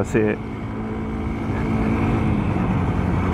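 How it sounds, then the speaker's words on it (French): A 125cc motorcycle engine runs steadily after being repaired, a continuous close-up motor drone that holds even throughout, with a short voice near the start. "La moto elle était en panne, là elle fonctionne."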